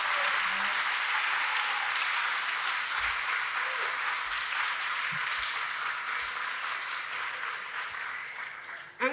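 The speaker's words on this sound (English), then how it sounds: "So I think they deserve another round of applause." Sustained applause from a concert audience for a jazz ensemble's musicians, full and even for several seconds before gradually thinning toward the end.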